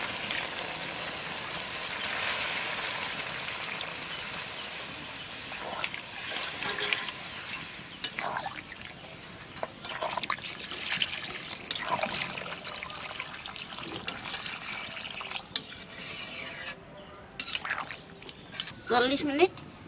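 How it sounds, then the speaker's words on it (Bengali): Water trickles and pours into browned mutton curry in a pan, a soft continuous stream with small splashes and clinks from the pot. A person talks over it throughout. "ওখানে জল দিয়ে দেবো।"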